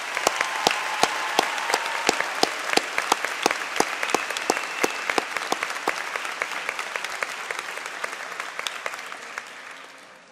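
Sustained applause from a crowd at a doctoral degree graduation ceremony, dense steady clapping for about ten seconds, fading slightly toward the end, with faint voices underneath.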